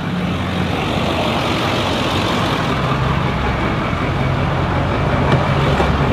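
A 2014 Mercedes-Benz S550 (W222) V8 idles steadily after starting, a smooth low continuous drone with a faint higher hum throughout and no talk.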